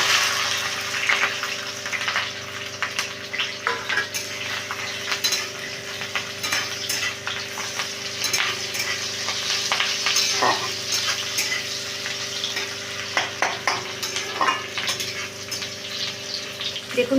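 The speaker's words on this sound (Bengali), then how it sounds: "পেঁয়াজটা আমার ভাজা হয়ে গেছে" Chopped onions, garlic and green chillies fry with a bay leaf and dried red chilli in hot oil, a steady close sizzle broken by scraping and clinks of a spatula stirring the pan.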